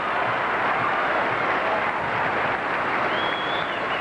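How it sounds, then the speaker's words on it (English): A gymnastics arena crowd at the 1983 USAIGC National Gymnastics Championships applauds loudly and steadily, a dense wash of clapping that holds for the whole stretch. "And you hear the crowd, they love it."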